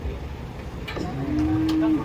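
Cattle moo while being unloaded from a truck, one long, loud, steady low moo standing out over a busy outdoor background with a faint voice.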